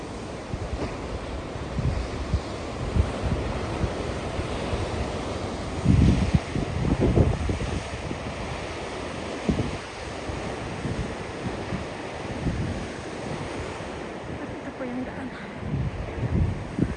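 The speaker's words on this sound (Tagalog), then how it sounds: "Ayan ang alon." Ocean waves surging against the rocky shore of Tagami-iwa at Kita Nagano Coast National Park, a continuous roaring wash with heavier crashes swelling partway through, wind buffeting the microphone and occasional voices.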